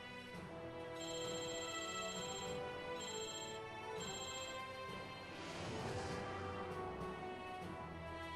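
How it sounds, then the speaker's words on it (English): An unanswered home telephone keeps ringing in short repeated bursts, loud and near, over the background sound of a Risk Factions Xbox online game. "Yeah, sorry about the phone ringing there"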